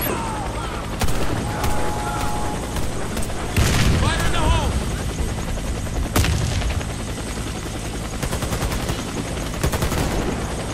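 Gunfire and a grenade blast in the shooter game Warface: bursts of rapid automatic fire and several heavy booming explosions, loud and close, with game voice lines over the action.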